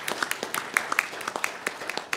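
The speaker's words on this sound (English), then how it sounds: "Please give him applause." An audience applauds after an introduction at a formal gathering, with scattered, uneven claps from a modest crowd, some sharp individual claps standing out nearby.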